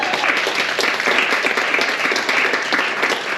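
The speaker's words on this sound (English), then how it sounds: "Let's give them all a round of applause." Audience applause at a fundraiser event, a steady dense wash of many hands clapping with no voices over it, holding at an even level throughout.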